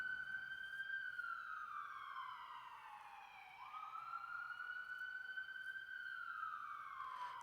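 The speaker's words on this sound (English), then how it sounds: "I think those sirens are coming through though." A police siren on a New York City street wails in long, slow rising and falling sweeps, distant and faint but steady throughout.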